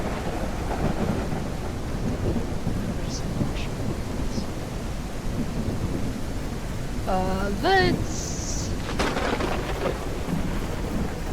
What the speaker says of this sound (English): Oh my god, it's still raining.